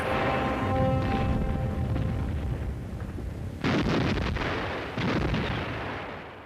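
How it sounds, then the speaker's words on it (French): German WWII artillery fires in old documentary footage: a loud, rumbling barrage, with two sharp blasts standing out partway through over a continuous roar. "L'artillerie régulière."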